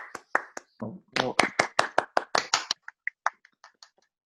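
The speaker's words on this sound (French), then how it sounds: "bravo, les gars, je vous applaudis" A quiz host claps his hands for the players, a quick run of about a dozen sharp, close claps that thin into a few softer, spaced taps at the end.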